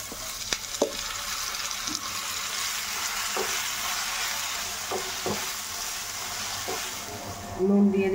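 Garlic and ground bean paste sizzle in hot oil with black cumin seeds, a steady frying hiss broken by occasional scrapes and knocks of a spoon stirring the pan, with a louder clatter near the end.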